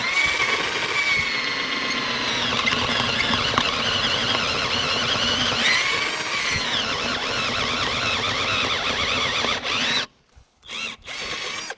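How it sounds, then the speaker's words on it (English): A cheap cordless drill from Amazon bores steadily with a high whining, squealing motor for about ten seconds, then cuts off into brief bursts and silence. "So I think it's pretty clear which one is coming out on top of the drilling test."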